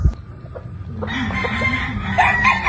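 Gamefowl rooster, an Allen Roundhead or sweater, crowing nearby in a single drawn-out call over steady background noise, with clucking fowl around it.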